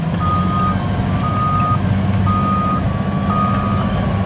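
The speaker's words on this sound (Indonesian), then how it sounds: "truk yang bekerja ya." Trucks at a road construction site on the Garoga–Sibolga route sound a steady, repeating reversing beep over a constant low engine rumble, moderately loud throughout.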